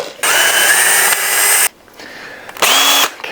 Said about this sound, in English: Okay, let's drill a hole then after all.